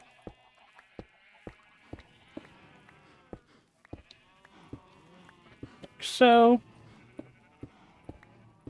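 Sheep bleat once in a blocky farming video game, a loud, wavering cry standing out midway over steady rhythmic game ticks and footsteps, with a voice speaking briefly.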